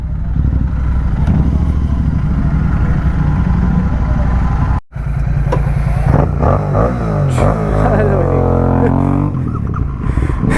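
A Royal Enfield GT650 twin motorcycle engine rumbles at idle, cuts out for a moment, then restarts and revs, a loud, close throb rising and falling in pitch.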